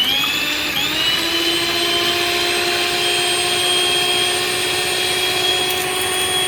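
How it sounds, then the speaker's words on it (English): A stand mixer whisks seven separated egg whites toward stiff peaks, its motor holding a steady, loud, high whine with a constant whirring drone and no pauses. "So in my mixer, I've got 7 eggs that I've separated, and I'm going to whisk these until I've got stiff peaks."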